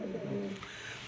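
A pair of white grizzle fancy pigeons coo in a low, soft murmur over about a second, fairly close and quiet against faint background noise.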